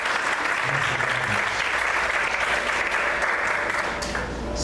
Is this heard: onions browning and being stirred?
no